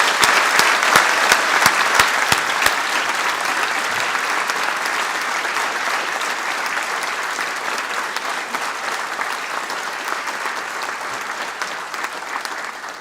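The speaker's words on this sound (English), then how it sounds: "give these special graduates a big round of applause" Long, full applause from a ceremony audience honouring agricultural and environmental sciences graduates, a few crisp nearby claps standing out at first over a broad steady roar of clapping that continues evenly and fades slightly.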